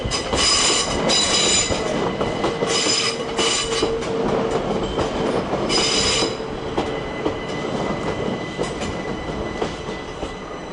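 A South Western Railway class 377 electric train rolls past at Clapham Junction, close and loud, with steady rumbling wheels, repeated rhythmic clicks over rail joints and bright metallic squealing bursts that fade into a lower continuing roar.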